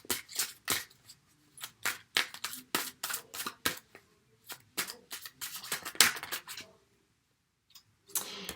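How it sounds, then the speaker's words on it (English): Crisp, rapid riffling and snapping of tarot cards being shuffled in irregular bursts, close by, with brief pauses between shuffles and a short silence near the end. "just as I was shuffling"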